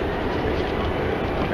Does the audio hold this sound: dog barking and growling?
no